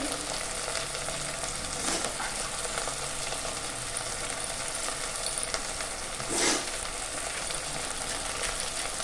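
Ground cumin, coriander and turmeric frying in oil in a pan for fish-head muri ghonto, a steady close sizzle with light stirring throughout.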